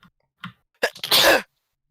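A single sharp sneeze preceded by a couple of quick inhaling breaths, close and clear against silence.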